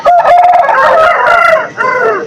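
A Kakinemali rooster at a weekly hen market in Punganur crows loudly and close by, one long drawn-out call followed by a shorter second crow.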